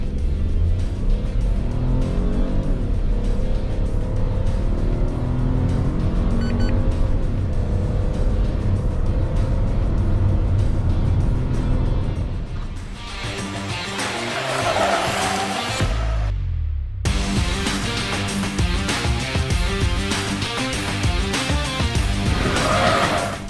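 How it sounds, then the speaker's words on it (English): A 110 PS coupe SUV accelerating hard, its engine a loud steady drone that swells and shifts through gear changes before a brief drop and a renewed surge, heard alone. "Let's start right away with the outright acceleration."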